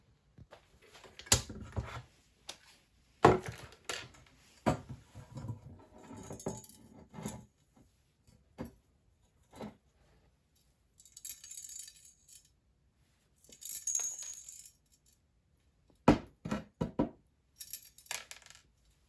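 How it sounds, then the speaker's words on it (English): Small metal shavings rattle and clink as they are shaken down inside the tubing of a Patton 20-inch high-velocity fan stand and dumped out, coming in irregular bursts of jangling separated by quiet pauses. "tip the stand up like this, shake it so all of the shavings come down to here, and I'm going to just dump it out"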